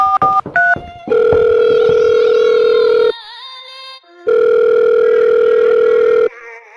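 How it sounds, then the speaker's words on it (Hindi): A phone is dialed with a quick series of keypad tones, followed by two long steady ringback tones separated by a gap of silence, loud and close. "अभी मिलाता हूँ"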